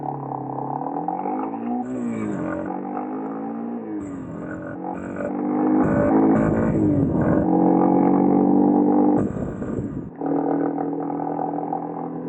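A Yamaha XT250 dual-sport motorcycle rides along, its single-cylinder engine droning and revving up and down through shifts, with brief throttle blips and a short pause near the end; fairly close and steady, without talk.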